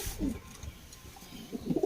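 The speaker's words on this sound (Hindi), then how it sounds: "ये है जी कबूतर।" A pigeon gives a few soft, low coos close by, with short pauses between them, against a quiet background.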